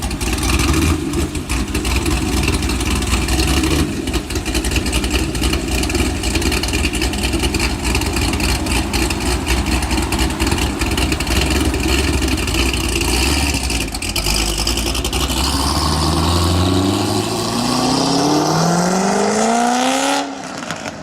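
A tuned Corvette sports car engine roars loudly and steadily, then climbs in pitch toward the end as it revs up hard, close and alone without talk.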